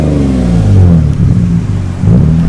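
A straight-piped Lexus ES300 with a muffler delete revs steadily, its engine note loud and close, holding a throaty drone that swells slightly near the end.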